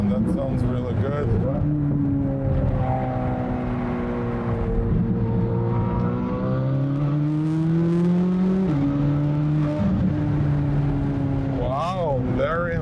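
A 2020 Chevrolet Corvette with a 6.2-litre V8, fire-damaged and rebuilt, revs up and drops through gears, rising engine tones falling and jumping at each downshift, loud and close with voices over it.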